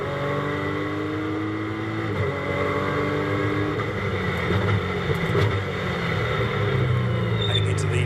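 Ginetta GT Academy race cars at Donington Park in 2023 roar steadily past near the timing line after the left-hander at Goddard's, a dense continuous engine drone with shifting pitch, heard alone without talk.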